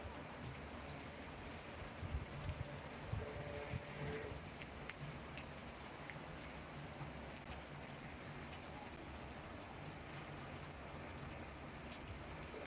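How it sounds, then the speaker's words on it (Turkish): Rain falling in the Netherlands after a storm, a steady even patter of drops on surfaces that stays constant, with a few brief louder spots early on and no talking. "Evet, şu an yağmur kesiliyor, azalıyor yani."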